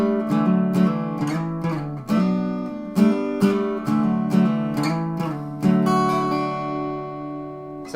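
Acoustic guitar embellishment before the second chorus of a folk-country song, a run of clear picked notes and chord strums in a steady pattern, close and loud, ending on a ringing chord that fades out.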